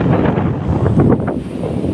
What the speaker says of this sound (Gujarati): પવન સારો છે અવાજ આવતો છે પવનનો